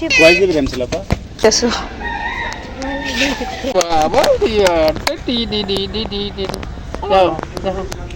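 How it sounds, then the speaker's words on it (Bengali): A flock of chickens clucks and a rooster crows repeatedly nearby in a village, busy and fairly loud, while people talk over the birds. "ওই যে প্রচুর প্রচুর মুরগি আছে"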